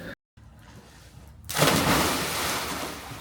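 Surf and splashing in cold Norwegian seawater beside a sauna, quieter at first, then a sudden loud broadband rush of water that carries on steadily to the end.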